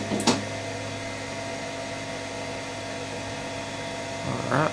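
A Wanhao Duplicator i3 v2 3D printer homes its axes, giving a steady mechanical hum with faint whirring, bracketed by short, louder motor bursts at the start and near the end, with no talking.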